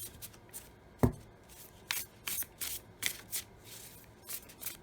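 A matte-finish tarot card deck being shuffled by hand, quiet close-up rustles and soft slaps in an irregular series of short bursts, one sharper knock near the start, with no voices.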